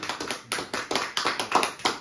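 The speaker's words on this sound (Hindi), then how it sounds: "चलो भाई तालियां।" Hands clapping at a family birthday gathering in India, a run of sharp, close claps in an uneven rhythm that go on for about two seconds with no talk.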